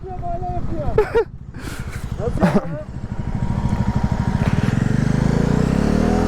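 Motorcycle engine revving steadily while stuck in mud in a forest at night, a continuous loud drone building and holding, with people talking and laughing over it.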